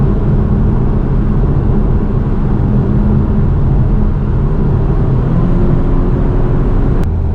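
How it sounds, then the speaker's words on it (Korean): Exhaust note of a Genesis G70 Shooting Brake on the move, a steady low engine drone blended with road and wind noise, constant in level throughout. "배기가 나름 은근 소리가 있어요"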